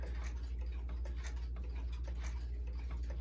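Antique Japanese regulator wall clock ticking steadily indoors, a soft, even tick-tock repeating at a regular beat, close by and faint over a low background hum, with no talking.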